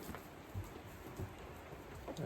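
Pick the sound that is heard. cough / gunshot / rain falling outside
rain falling outside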